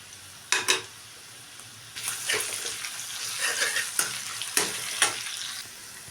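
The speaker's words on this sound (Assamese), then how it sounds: "আৰু ইয়াতে মই আদা নহৰু পেষ্টখিনি দি দিছোঁ।" Ginger garlic paste hits a pan of hot oil with spices, setting off a sharp sizzle after a couple of clanks, then continued frying crackle and stirring scrapes, close and loud, without talk.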